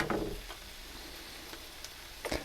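Sunflower oil heats in a pan over a gas flame for a beef and vegetable noodle stir fry, giving a faint, steady sizzle with a few light clicks and taps.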